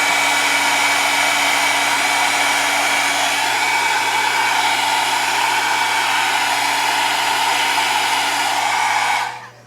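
Heat tool blowing steadily to melt beeswax for heat setting, a loud continuous close-up whooshing hum with a constant motor tone that cuts off abruptly at the end.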